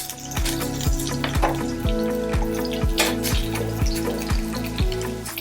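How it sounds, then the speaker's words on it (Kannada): Mustard seeds crackle and pop in hot oil for a tempering, a dense run of sharp, close spitting bursts over a continuous sizzle. "ಈಗ ಕಾದಿರುವಂಥ ಎಣ್ಣೆಗೆ ಸಾಸಿವೆ ಹಾಕಿದ್ದೇನೆ ಸಾಸಿವೆ ಈಗ ಶಬ್ದ ಬರೋದಕ್ಕೆ ಪ್ರಾರಂಭ ಆಗಿದೆ"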